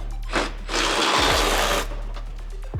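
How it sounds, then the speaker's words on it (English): A power ratchet whirs continuously for about a second as it loosens a bolt on a Toyota Tacoma, with short mechanical clicks before and after. "I'm going to throw this on our power ratchet"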